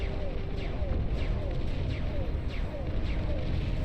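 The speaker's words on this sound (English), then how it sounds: "sending volley after volley of rapid fire plasma artillery, plasma cannon towards their enemy" Plasma artillery and plasma cannons fire rapid volleys in the strategy game Beyond All Reason, a dense rumbling barrage of repeated bursts and whooshing shots under a commentator's voice.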